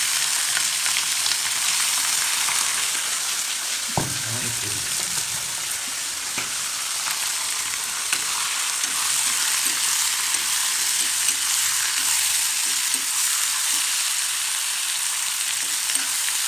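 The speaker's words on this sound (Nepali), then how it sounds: "म पहिला चाहिँ मजाले मासु भुट्छु" Pork meat sizzles steadily in hot oil in a pan, a continuous close crackling frying hiss with occasional scraping stir strokes, and no one speaking.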